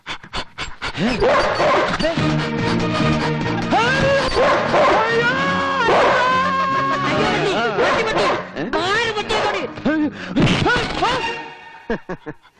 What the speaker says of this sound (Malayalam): പട്ടി തനിയെ വരുന്നുണ്ടല്ലോ